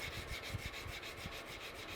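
A hybrid knife handle is sanded by hand, wood first, with abrasive grit rubbing in quick, regular back-and-forth strokes, close up but quiet.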